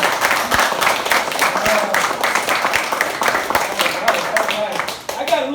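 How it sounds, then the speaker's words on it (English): A crowd claps and applauds in a dense, steady burst lasting several seconds, with voices mixed into the noise. "How about everybody give these guys a round of applause?"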